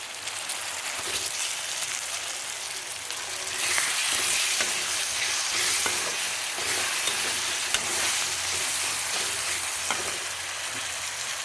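Pre-cut tomato fries in a pan with browning onions for a chicken gravy, a dense steady sizzle with repeated spatula scrapes and stirs, close and continuous.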